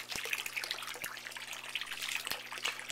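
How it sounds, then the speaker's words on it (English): Water jets from the return pipe of a solar water system, a steady splashing hiss with soft regular ticks underneath. "Return pipe is right here, and you can see the water jetting out."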